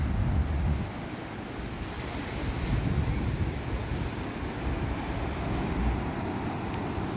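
Surf on the beach at Pentire Glaze heard from above, a steady low rumbling wash of waves mixed with wind buffeting the microphone, continuous and moderately loud.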